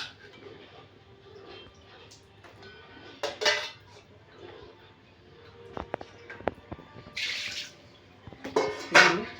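Pieces of mutton liver drop into a pot of water, giving a few wet splashes and metallic clinks against the pot amid quiet kitchen clatter.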